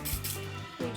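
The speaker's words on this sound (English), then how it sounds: "and just give the ends a quick spray" A few quick bursts from a water spray bottle misting the dry ends of hair during a foam-roller wet set, short breathy hisses, close and soft.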